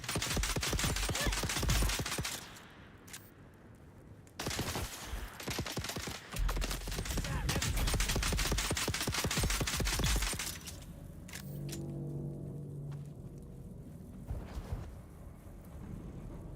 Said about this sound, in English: We're using dart weapons, by the way. They fire needles.